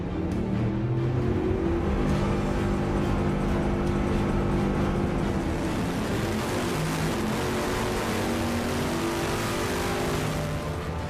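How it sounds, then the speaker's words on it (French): A Bugatti Veyron engine is run at full throttle on a test bench, a loud, continuous roar with dense layered harmonics that holds steady for about eleven seconds, alone and without voices. "les ouvriers poussent le moteur à plein régime pour la toute première fois"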